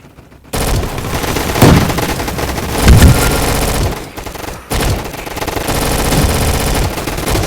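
Machine gun fire in a gun fight arena video game, loud sustained bursts that stop briefly around the middle and then resume, with no talk over them.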